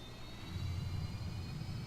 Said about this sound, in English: Listen to this bad boy spooling up